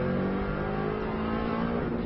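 Subaru rally car accelerating hard out of a corner on an Isle of Man lap, a steady, loud engine drone with rising harmonics heard close from onboard, no talk.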